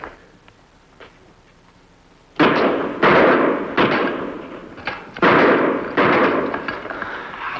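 A rapid string of about eight sharp gunshots aimed at a tin can, close and loud with short gaps, coming after a few seconds of quiet with faint sounds.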